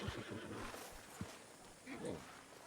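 A horse neighs in the video game Red Dead Redemption, a whinny with hoof clops around it, fairly faint under someone speaking French.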